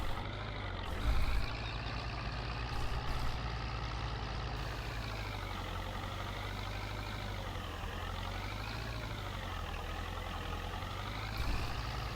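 A vehicle engine droning steadily in Farming Simulator 22, a continuous low rumble with a wavering pitch as the machine drives along, plus a brief hiss and clunk near the start, with no one talking.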